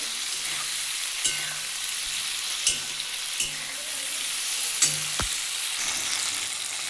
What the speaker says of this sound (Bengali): দেখুন আমার ঢ্যাঁড়সটা ভাজা হয়ে গেছে